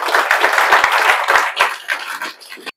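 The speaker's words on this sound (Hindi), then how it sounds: "तो इसके लिए आप लोग जोरदार ताली बजा दीजिए।" Loud applause from an audience at a ceremony honouring top JEE Main 2025 result achievers, with dense overlapping hand claps that begin strongly and then thin into scattered individual claps toward the end.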